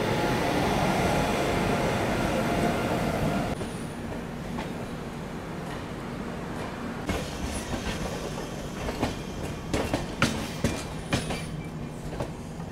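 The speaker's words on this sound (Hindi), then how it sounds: "Bhubaneswar new Delhi Rajdhani express via Tatanagar" The Bhubaneswar–New Delhi Rajdhani Express via Tatanagar runs through Pandit Deen Dayal Upadhyaya Junction railway station with a loud, steady roar. The roar then eases into rhythmic clickety-clack wheel clatter, with no talk.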